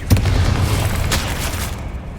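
A Confringo spell blast in Hogwarts Legacy lands as a loud, close explosive boom that rumbles and decays over about two seconds.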